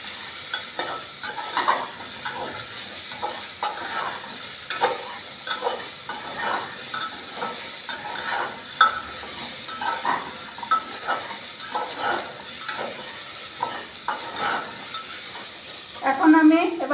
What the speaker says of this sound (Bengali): পেঁয়াজ রসুন দেওয়ার পর আবার একবার আমি এটাকে নাড়াচাড়া করে নিচ্ছি।